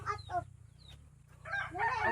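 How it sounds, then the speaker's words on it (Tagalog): Chickens cluck and chatter softly nearby, with short bursts at the start and a louder flurry at the end. "Daghan lang manok ni Maro na."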